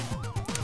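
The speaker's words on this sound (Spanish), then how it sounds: "Perfecto. Con la sirena de mierda que tenía." A police car siren in the Retro City Rampage video game gives short rising and falling electronic wails over a rhythmic low game soundtrack.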